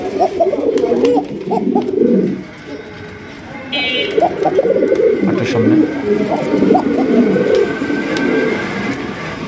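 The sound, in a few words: Arabian cock pigeon cooing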